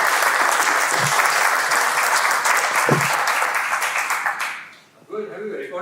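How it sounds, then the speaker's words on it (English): Audience applause for a panel of speakers at a cyber-safety talk, a dense sustained clapping that fades out near the end before brief talking resumes. "Big round of applause for all our panelists"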